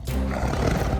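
A tiger roars in a Tenali Rama period drama, heard as a deep, rumbling growl that fills about a second, with no voices over it.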